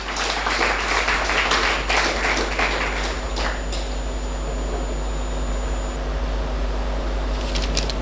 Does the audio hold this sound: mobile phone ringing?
no